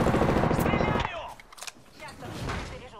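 Rapid automatic gunfire from Apex Legends rattles loud and close for about a second, then drops to scattered quieter shots and movement noise, with a voice speaking over the game.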